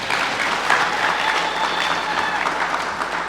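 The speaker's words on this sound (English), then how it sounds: "Give them a round of applause." Applause from a congress audience in Zambia, steady dense clapping that fills the room at full volume throughout, with faint crowd murmur beneath.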